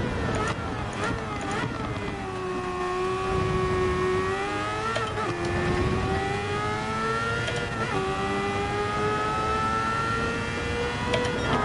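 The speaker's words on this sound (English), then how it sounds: "The Mazda 787B sounds like nothing else." A Mazda 787B race car in Gran Turismo 7 screams under sustained acceleration, a high, smooth rotary-style wail that climbs steadily through the gears, with quick shifts marked by brief pitch drops, loud and continuous.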